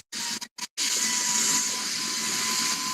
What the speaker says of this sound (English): let me vacuum these cookie crumbs up before they get too out of control